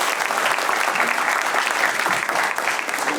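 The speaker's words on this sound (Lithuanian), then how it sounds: "Plojimai dar kartą Mindaugui Laskovui." Studio audience clapping for Mindaugas Laskovas during a comedy panel show, dense and loud hand claps that hold steady for about three seconds and then thin slightly toward the end.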